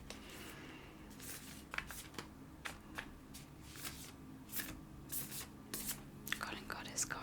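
Cards are shuffled in quick, crisp riffling bursts, close and soft, with a quiet voice murmuring alongside.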